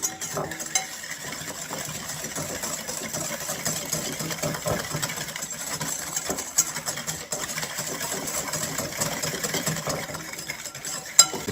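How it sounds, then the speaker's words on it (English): Sugar being hand-whisked into egg yolks in a bowl for a dessert, a faint, steady scraping and clinking of the whisk against the bowl that runs on evenly over a low background hum. "I'm just gonna whisk in the sugar a little at a time"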